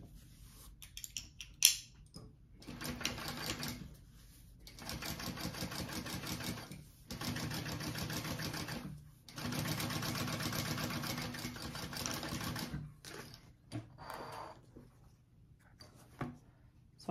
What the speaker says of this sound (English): I am going to top stitch that